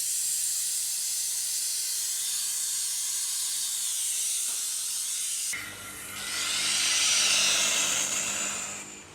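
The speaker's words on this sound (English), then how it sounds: "we use compressed air and science to suck the fluid" Compressed-air vacuum bleeder hisses steadily as it draws brake fluid out of a master cylinder on an Eldorado, the airy hiss shifting and surging louder partway through, close and alone.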